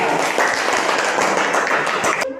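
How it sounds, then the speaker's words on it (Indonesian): Applause fills a classroom presentation on plant stems, a dense burst of clapping from a group that runs steadily and cuts off abruptly near the end. "tepuk tangan dulu"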